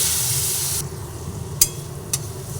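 Spice paste with a splash of water and green chilli sautéing in a pan for an egg curry, a strong hiss that drops to a quieter sizzle, with two sharp spatula scrapes, no talking.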